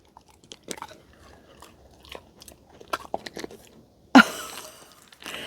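A dog named Maverick crunches and chews chicken nuggets close up, quiet irregular bites and smacking followed by a louder crunch near the end.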